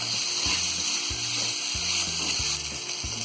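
A dry potato katli mixture is stirred in a pan over a gas flame, with steady sizzling and repeated scraping strokes of a spoon against the pan, close and moderately quiet, no voices.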